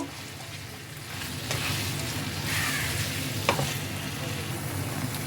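Maggi noodles being tossed with spices, corn and melting cheese in a hot pan: a steady close sizzle under repeated scraping stirs, with a few sharper spatula knocks and no talking.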